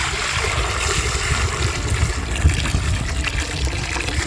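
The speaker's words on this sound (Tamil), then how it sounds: "தண்ணி ஊற்றி மாப்பிள்ள." Water being poured in a kitchen while making paneer jamun, a steady close trickle and splash that runs continuously and evenly throughout.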